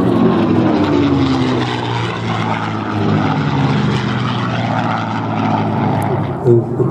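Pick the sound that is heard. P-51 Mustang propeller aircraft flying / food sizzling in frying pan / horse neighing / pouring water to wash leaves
P-51 Mustang propeller aircraft flying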